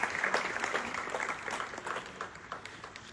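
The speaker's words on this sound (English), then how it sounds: "Can we have a round of applause for Naz?" An audience at an Indian National Voters' Day event claps for a prize winner, giving quick, fairly faint applause that continues for a few seconds.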